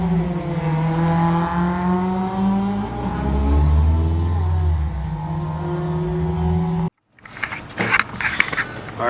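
Race cars, including a B20-engined car, roar past in a loud, close engine drone whose pitch climbs and shifts as they accelerate. The sound cuts to silence, then gives way to fainter engine noise and knocks.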